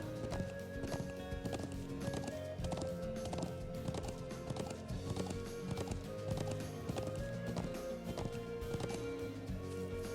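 Horse hooves galloping in the Trails of Cold Steel video game, a fast, steady clip-clop rhythm over game music with no speech.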